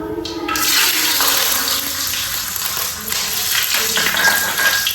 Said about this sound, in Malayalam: അപ്പൊ നമ്മൾ നെയ്യ് ചൂടായിട്ട് നമുക്ക് ഇതിലേക്ക് അണ്ടിവരുത്ത് മുന്തിരി ഇട്ട് കൊടുക്കാം